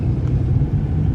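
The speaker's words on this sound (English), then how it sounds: "This is a diesel, it's been very good on fuel." A diesel rental car drives along a road in Sweden, a steady low engine rumble heard from inside, close and even, with no talk.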